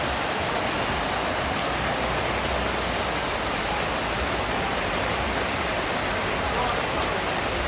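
Water flows steadily beneath raised outdoor dining platforms at a restaurant surrounded by mountains, a dense, continuous broadband rush like a stream or small waterfall that stays loud and even throughout.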